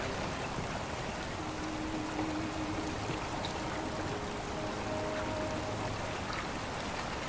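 Constant flowing water in The Forgotten City, a soft even stream of trickling and splashing that carries on unbroken, with no one speaking.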